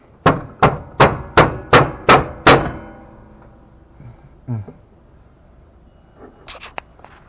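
Seven sharp, evenly spaced hammer blows ring against metal on a John Deere steering selector part in quick succession, then a few fainter knocks and clinks follow after a pause.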